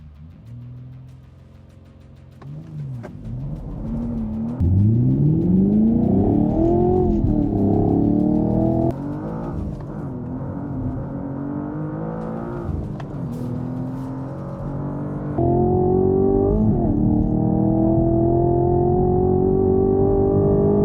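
A 2023 BMW M2 engine revs hard while held on launch control, its note climbing and sagging in repeated sweeps over about twenty seconds, loud and close, with a lighter idle at the start and sharp step changes in pitch.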